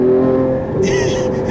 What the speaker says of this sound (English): this car on this road, you can just run out the revs